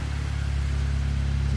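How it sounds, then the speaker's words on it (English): Steady low rumble of a 2018 Jeep Rubicon JL's exhaust at idle, a constant, close engine drone with no revving and no voices. "Exhaust sounds great."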